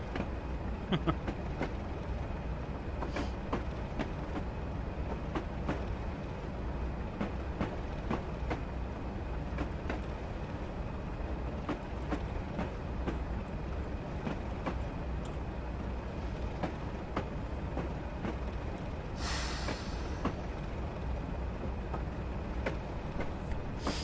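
A Class 37 diesel locomotive in Train Simulator 2015 runs along the West Highland Line South, a steady engine drone and rolling rumble with faint rail clicks throughout, and one brief brighter burst near the end.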